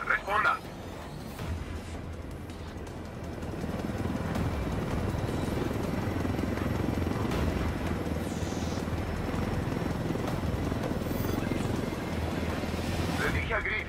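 Helicopter in the video game Ghost Recon Wildlands: a steady rotor drone and engine roar that swells after the first few seconds and holds loud and continuous.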